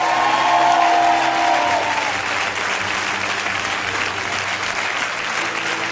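A church congregation applauds and cheers for the Lord, sustained loud clapping from a large crowd, with a brief sung or shouted tone near the start before settling into steady applause.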